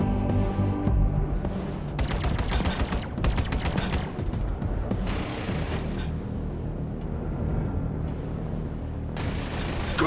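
Weapon fire in the space combat game Star Citizen Arena Commander: a dense, loud, continuous barrage of rapid shots that stays sustained throughout, with short breaks where the burst stutters.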